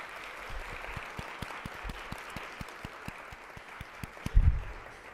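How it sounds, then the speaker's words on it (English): Audience applause for the panelists after a discussion on Black hair and identity in Columbus. The clapping is continuous and even, with a regular pulse of low thumps under it and a louder knock near the end. "Let's give them all a round of applause."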